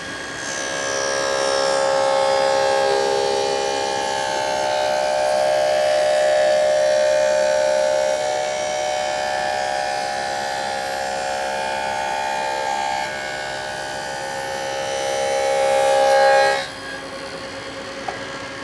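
Table saw cutting a wooden cabinet piece for an under-saw storage cabinet, a steady tonal whine with a rising and falling rasp through the blade pass, held loud and close for about sixteen seconds before spinning down abruptly, no voices.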